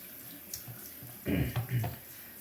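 Tap water runs briefly over a wedge straight razor and a Shapton Kuromaku 1500 whetstone, a soft steady trickle that swells into a louder splashing rinse for about a second, close by, with no talking.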